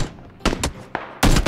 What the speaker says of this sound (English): Guy's shooting